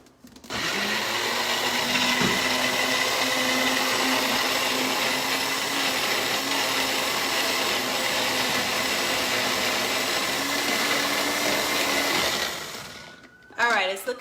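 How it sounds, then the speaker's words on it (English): A kitchen blender whirs steadily for about twelve seconds, blending a breakfast smoothie, then winds down and stops near the end. "We're gonna blend this breakfast smoothie."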